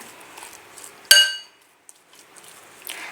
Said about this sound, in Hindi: देखिए तमाम चीज़ें मिक्स हो रही हैं।